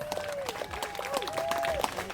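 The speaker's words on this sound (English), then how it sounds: "Give them a round of applause." Crowd applause at an outdoor community ribbon-cutting for a new fishing pier in East Austin, with scattered clapping, a sustained whistle and some voices over the top, steady and moderately loud throughout.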